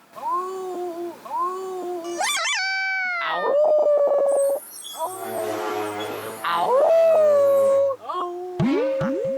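Several people take turns imitating dogs howling, with drawn-out wavering wails, yips and whimpers overlapping close up, some laughter mixed in.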